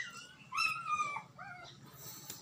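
A mother dog that recently gave birth lets out high, wavering whimpers and yips in two short bursts, close and fairly clear over a low background hum.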